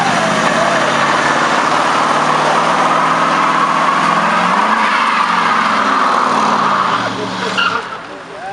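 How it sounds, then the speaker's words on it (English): Engine of a roughly 1970 Chevrolet Camaro roaring loud and close as it rolls out showing off, a sustained revving rumble with squealing tires throughout, easing slightly near the end. "Beautiful 1970-ish Camaro, correct me if I'm wrong, rolls out of nowhere and I guess decides to show off."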